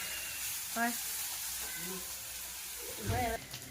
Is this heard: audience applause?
no